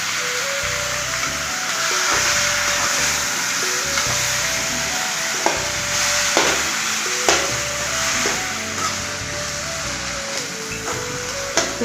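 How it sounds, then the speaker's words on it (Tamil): Masala poured into a pan for cauliflower gravy sizzles and fries steadily, with stirring scrapes and occasional clinks over a continuous bright hiss. "இப்போ நம்ம இந்த மசாலாவை ஊற்றிக்கலாங்க."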